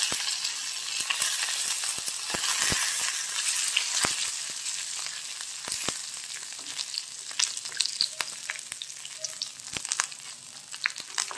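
Dried chillies and garlic fry in a pan with a steady, close sizzle, sharp crackling pops and occasional stirring clicks, with no one talking.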